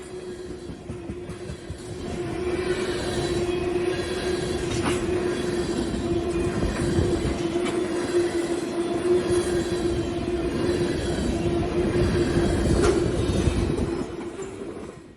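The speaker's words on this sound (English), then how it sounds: "we see CP-651, northbound ethanol empties from Albany led by two GE AC4400 CW" Northbound freight train of empty ethanol cars led by two GE AC4400CW locomotives rolls past loud and steady, with a drawn-out wheel squeal over the rumble and clatter of the cars.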